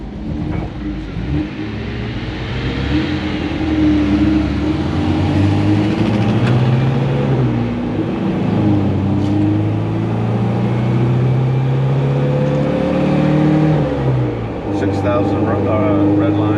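A 1972 MGB convertible engine pulls under acceleration on a drive, a steady loud droning hum with rising and falling pitch as revs change, road and wind noise mixed in.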